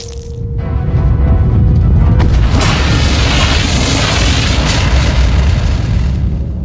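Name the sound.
explosion in animated series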